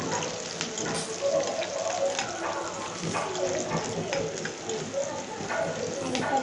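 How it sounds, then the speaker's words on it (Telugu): Onion and curry leaves fry in hot oil in a pan with a loud, continuous crackling sizzle that holds steady from start to finish. "ఆయిల్ కాగిన తర్వాత ఒక ఆనియన్ కొంచెం కరివేపాకు వేసినాను"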